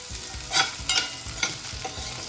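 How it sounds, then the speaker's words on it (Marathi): Capsicum and large-cut onion sautéing in oil for a baby corn chilli starter, with a continuous close sizzle and rhythmic stirring clatter of a spatula in the pan. "कांदा आणि ही शिमला मिरची तेलावर परतून घ्यायची आहे"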